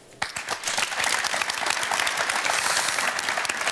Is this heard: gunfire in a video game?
no